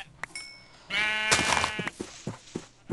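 Sheep in the video game Minecraft bleats once loudly and clearly in the middle, framed by soft thuds and clicks of gameplay, with no talk over it.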